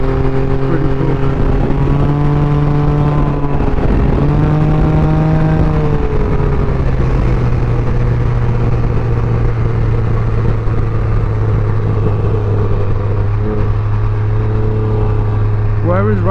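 A Can-Am Ryker three-wheel motorcycle cruises down a Florida street, its engine droning loud and close, with audible gear-shift pitch changes and someone talking over the ride.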